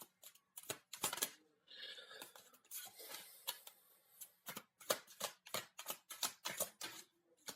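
Tarot cards are shuffled for a reading in quick, crisp riffles and flicks, close and fairly quiet, with a rapid ticking rhythm of individual card snaps.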